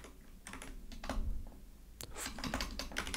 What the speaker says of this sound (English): I cannot type.